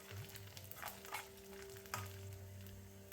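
Garlic and whole spices fry in a pan for a chicken tikka and mushroom balti curry, a faint, quiet sizzle with a few stirring scrapes over a low background hum.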